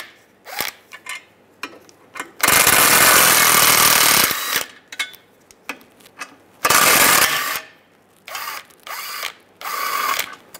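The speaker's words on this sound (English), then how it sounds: "Using a 13mm socket, take these three bolts out." Power tool or ratchet work on bolts of a 1998-2010 Volkswagen Beetle front lower control arm, using a 13mm socket: loud bursts of mechanical whirring, two long runs and several short ones, close by, with no talk.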